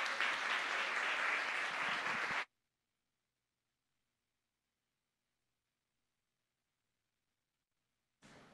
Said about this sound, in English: Let's have a round of applause for Chip Nisbet and the Nisbet family.